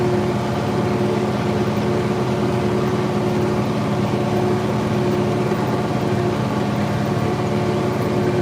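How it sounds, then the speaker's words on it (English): An IH 4786 tractor with an 800 cubic inch International V8 engine runs during fall tillage, a loud, steady, droning engine rumble with constant hum and no variation throughout. "This engine on this one is a 800 cubic inch International V8"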